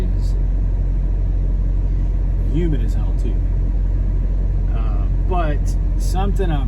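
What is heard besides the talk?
truck engine idling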